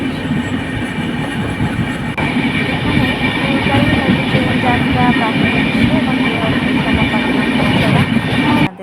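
A passenger train travelling out of Secunderabad toward Vizag rumbles loudly and continuously from inside the carriage, with rhythmic rail clatter and metallic wheel noise throughout.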